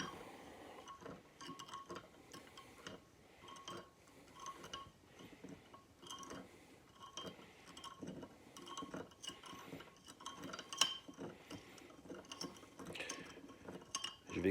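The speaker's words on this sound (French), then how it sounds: "Et je remue bien." Hummingbird nectar water is stirred in a glass container, giving faint, quick, irregular clinks and taps of a utensil against glass, close and quiet.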